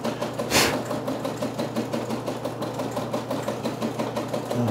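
Brother embroidery sewing machine stitching, its needle running in a fast, even mechanical rhythm close by, with one brief louder burst near the start.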